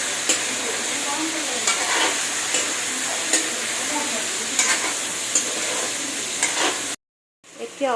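Paneer pieces frying in hot oil give a steady, close sizzle with occasional spatter pops and stirring scrapes, running continuously before a brief cut near the end.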